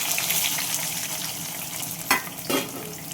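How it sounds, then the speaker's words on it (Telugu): Pieces of stone amla dropped into hot oil for pickle, a steady loud frying hiss throughout with two brief sharper crackles near the end. "వేడిగా ఉంది ఆయిల్ ఈ ముక్కలన్నీ దీంట్లో వేసేసుకుందాం"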